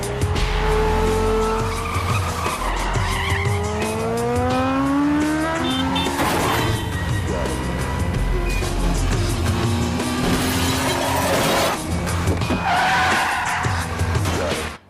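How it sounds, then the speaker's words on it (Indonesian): A film car chase in a Jet Li action movie, with roaring engines and repeated long, wailing tyre squeals as the cars skid, loud and continuous, with a few sharp impacts. "Han dan Tris bergegas pergi dari tempat itu dan terjadilah kejar-kejaran di antara mereka"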